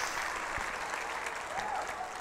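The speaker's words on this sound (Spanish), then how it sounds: "Un aplauso a todas las mamás y a su amor" A seated audience at a talk applauds mothers, a broad steady wash of clapping throughout with a few louder claps near the front and faint voices under it.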